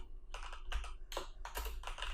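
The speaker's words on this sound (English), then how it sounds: "let's start typing our first HTML page" Someone types quickly on a computer keyboard, quiet close clicks in short bursts and steady runs, alone over a low hum.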